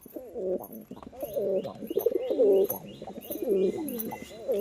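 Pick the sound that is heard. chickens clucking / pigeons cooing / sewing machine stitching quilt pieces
pigeons cooing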